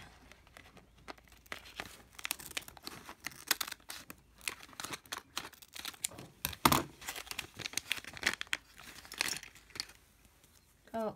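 Crinkly plastic blind bag packaging being torn and crumpled open, with bursts of tearing and rustling close up and a sharp rip partway through.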